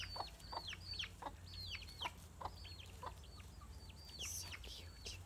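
A hen near her chick gives a run of soft, repeated clucks and short squawky calls, fairly close but quiet, over a low steady background hum.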